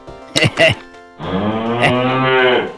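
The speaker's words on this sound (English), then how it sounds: "seems the cows are getting restless out there" Cows in the online game Shroud of the Avatar let out a short grunt and then a long, loud, drawn-out moo, close and clear.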